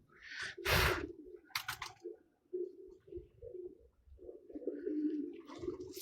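A female pigeon kept by a pigeon fancier coos in soft, low, repeated phrases, close by, with a brief brighter burst near the start and scattered quieter calls in between.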